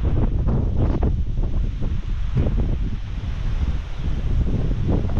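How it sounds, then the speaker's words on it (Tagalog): Strong wind off the Pacific Ocean on the coast at Dingalan, Aurora batters the microphone in continuous, loud, gusting roars, with no pauses throughout. "Napakalakas kasi ng hangin dito."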